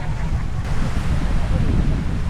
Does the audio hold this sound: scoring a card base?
no